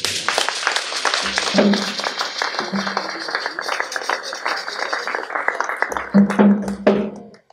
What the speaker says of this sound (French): Applaudissons les gens.